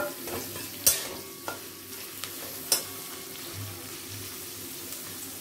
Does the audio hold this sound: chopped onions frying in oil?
yes